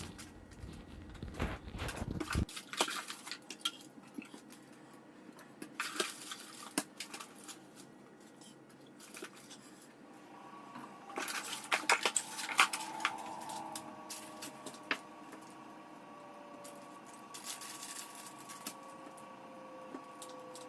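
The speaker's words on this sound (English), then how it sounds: "Here I'm just pushing the slugs into the slug bobbin" Pickup slugs are pressed one by one into a humbucker slug bobbin, giving sparse small clicks and taps, close and faint, with a brief rustle at the start and no voices.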